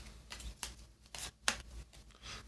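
Board game cards are shuffled by hand in several quick riffling bursts, crisp and close, separated by short pauses, with no voices.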